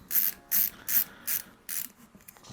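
Five short rhythmic ratcheting bursts from a screwdriver driving four small screws into the brackets on the underside of a CPU cooler during a budget gaming PC build, close and fairly quiet.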